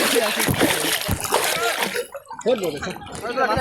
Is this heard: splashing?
yes